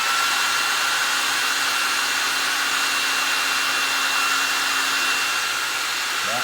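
A hair dryer running continuously at full power, a loud, steady, breathy whoosh with an even hum that holds throughout without pause.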